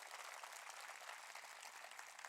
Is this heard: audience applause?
yes